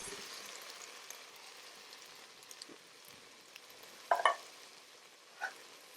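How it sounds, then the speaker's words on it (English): Fire roasted diced tomatoes and sauce are poured into chili cooking in a Ninja Possible Cooker, producing a low continuous sizzle with a couple of soft wet plops and splashes near the end. "go ahead and add those fire roasted diced tomatoes, the sauce, the other can of sauce,"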